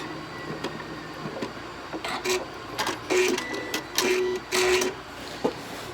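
A sewing machine ties off stitches on a quilt in short mechanical bursts of rapid whirring, separated by brief pauses, heard close over a low room hum.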